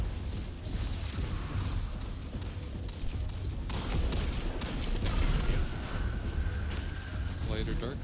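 Gunfire in the Destiny 2 raid Vow of the Disciple: a dense, continuous fusillade of shots layered with game effects and people talking over it, steady and loud throughout.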